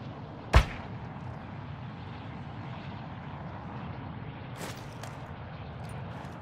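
Artillery strike in the Call of Duty video game: a sharp distant blast near the start, a second softer impact later, and another burst at the very end, separated by low rumbling ambience, with no talk.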